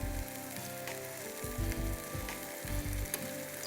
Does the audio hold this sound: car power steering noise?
no